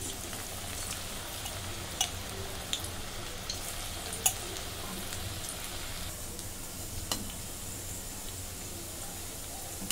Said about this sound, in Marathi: तेल गरम झाले। आता भजी सोडून घेते।